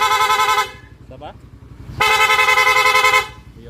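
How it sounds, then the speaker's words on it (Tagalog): A PIAA horn on a Raider 150 FI motorcycle blares in two loud, sustained honks separated by a short pause, with an idling engine audible between them. "Yan yung original PI horn with rapid."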